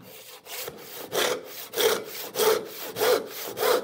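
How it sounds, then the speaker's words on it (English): Handsaw cutting straight through a wooden board, a steady rhythm of about six rasping push strokes, close and clear, with no talking. "That's how we saw a straight cut with a handsaw."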